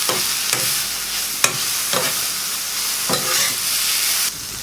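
Vegetables with garlic and ginger powder fry loudly in a pan, a dense, constant sizzle broken by several sharp stirring scrapes at irregular intervals, with no voices.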